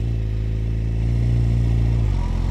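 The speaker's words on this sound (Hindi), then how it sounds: "स्टार्ट करते हैं बाइक की राइड" A Suzuki GSX-R 1000 sportbike engine revs loud and close for a few seconds as the ride gets under way, holding a steady deep drone before the pitch drops slightly near the end.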